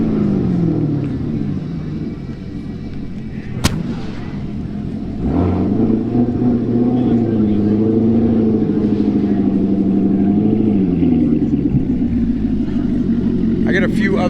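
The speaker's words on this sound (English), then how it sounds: "they're down here revving the ZR1" A Chevrolet Corvette ZR1 fitted with an AWE exhaust revs at a car show, with a loud, steady engine drone rising and falling through several sustained pulls under a crowd's background noise.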